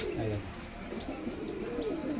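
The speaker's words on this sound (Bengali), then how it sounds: "এই যে এটা সব টুর্নামেন্টে ওড়া পায়রা" Punjabi Malwai tournament-flying pigeons coo softly in low, rolling bursts, several overlapping calls close by for about two seconds against a light background hum.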